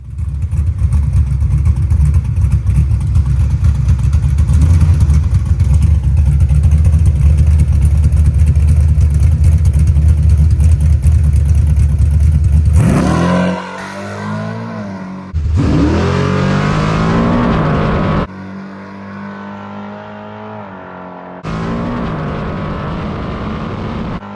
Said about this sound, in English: the 950 carburetor left the starting line, and the shock and tire pressure changes I made helped the car make a full lick